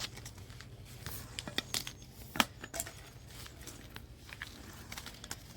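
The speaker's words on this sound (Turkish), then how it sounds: "Dış kabı soyması çok kolay." Outer insulation is stripped from a copper cable by hand, giving faint, close crinkling and tearing with scattered small clicks and snaps.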